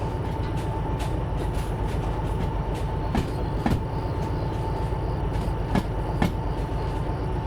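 A train in the Derail Valley simulator video game rolls along with a steady heavy rumble, a faint constant tone and occasional sharp rail clicks and clacks spaced out over the run.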